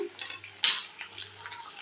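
Onion and ginger paste stirred in a cooking pan with a spoon, soft scraping and light clinks with one sharp scrape, faint sizzle beneath.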